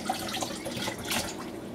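Tap water runs steadily while food is washed under it at a sink, a continuous close splashing hiss with small gurgles and no talking.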